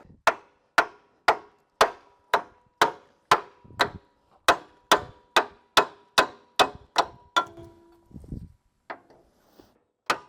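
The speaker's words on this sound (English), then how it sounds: "With a tap from a hammer, it should pop off." A hammer taps metal repeatedly to pop a part off a bed frame, about fifteen sharp evenly spaced strikes close by, then a few softer, irregular knocks and a low clunk as the piece comes loose.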